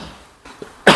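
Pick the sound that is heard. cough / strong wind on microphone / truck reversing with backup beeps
cough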